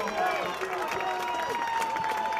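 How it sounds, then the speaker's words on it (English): A crowd at a high school football game (Upper Dublin vs Truman, 2006) cheering and clapping in a standing ovation, a continuous roar of applause with an announcer's voice over it. "T.J. Walsh gets a standing ovation from the crowd"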